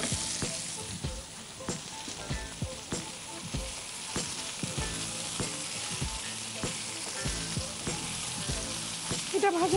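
Eggplant frying in oil in a kitchen pan, a loud continuous sizzle with repeated sharp crackles and spatters throughout, no talk over it.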